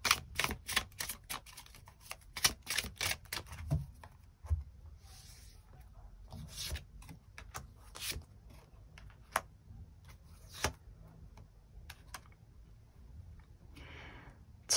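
Tarot cards are shuffled and drawn in a run of crisp, irregular snaps and flicks, some quick flurries and some lone clicks, close and fairly quiet with no talking.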